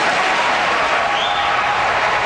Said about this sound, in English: he got a loud round of applause for saying that